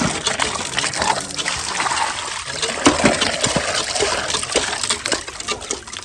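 Clean water gushes and splashes steadily from a freshly installed source near a mosque, a continuous close rushing flow with faint voices in the background.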